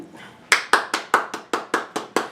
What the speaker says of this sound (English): give some claps for that